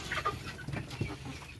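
Chickens cluck softly indoors on a small farm, short low clucks and murmurs spread through the moment, fairly faint and close by, with no talking.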